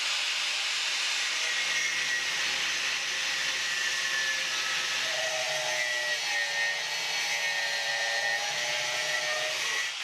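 A small piece of 6mm thick steel being cut, giving a steady, loud, continuous hissing grind with no break, close by and alone without voices.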